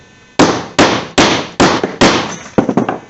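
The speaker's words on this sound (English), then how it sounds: "let me see if I can't get a big hammer" Loud, heavy strikes of a big hammer on a metal tool, about five evenly spaced blows followed by a quicker flurry of lighter hits, each ringing briefly.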